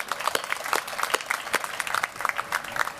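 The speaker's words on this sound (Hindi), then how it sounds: "इसके लिए ताली बजाओ." Audience applause at a business presentation in Kakinada, Andhra Pradesh: a dense, steady round of many hands clapping that continues for about three seconds, close and lively.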